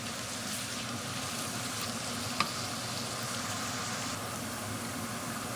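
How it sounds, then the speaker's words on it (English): Onions and celery sauté in a pot for Italian wedding soup, giving a steady, even sizzle throughout with one brief click near the middle; no one speaks. "You're going to want to allow this to saute for at least a good, I'll say 3 to 4 minutes so the onions are translucent"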